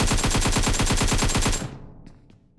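Rapid automatic gunfire in a video game, a tight burst of about fifteen evenly spaced loud shots over a second and a half, then cutting off into a fading tail with a couple of faint clicks.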